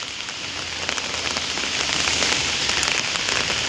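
Rain falls steadily on a hard surface in Italy, a thick patter of drops that swells slightly louder partway through.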